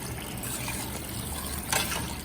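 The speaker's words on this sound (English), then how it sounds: "and add some water" Water pours into a pan of potato curry with tomatoes and potato slices, a steady pouring and sizzling wash of sound with a brief louder splash near the end.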